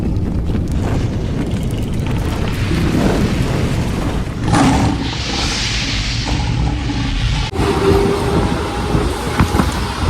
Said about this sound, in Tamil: லோக்கல் ட்ரெயின் போயிட்டு இருக்கனால வந்து பார்த்தீங்கன்னா பார்க்க முடியுது